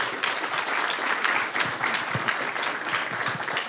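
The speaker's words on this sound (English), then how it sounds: "Let's give him a round of applause." Audience applause at a Monterey County Board of Supervisors meeting: dense, steady clapping from many hands, fairly close, running unbroken through the whole stretch with no voices over it.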